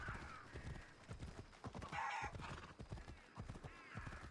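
Hooves clip-clop in a quick irregular rhythm while a horse whinnies loudly in the middle of the stretch, all from Assassin's Creed Odyssey, fairly quiet overall with no speech.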